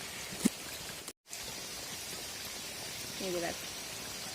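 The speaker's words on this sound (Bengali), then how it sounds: "একটু বৃষ্টিটা দেখো কেমন হচ্ছে" Rain falling during a week of steady downpour in a Sundarban village, heard as a soft, even hiss throughout, fairly faint, with a single brief knock early on and no voices.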